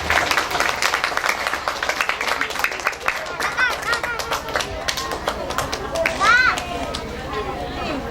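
An audience at a Quran school (TPQ) graduation event clapping together in a dense, rhythmic patter that runs throughout, mixed with excited children's voices and nearby chatter.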